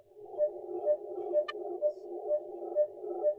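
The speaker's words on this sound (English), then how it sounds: "Sounds like a timing signal for facsimile." Unknown analog signal received at 7169.20 kHz on an Icom IC-7300 transceiver: a faint, steady tonal hum pulsing in regular beats about twice per second, with one brief click partway through.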